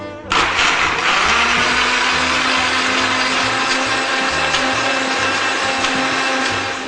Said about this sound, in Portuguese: E aqui vai pro liquidificador, sem muita ciência.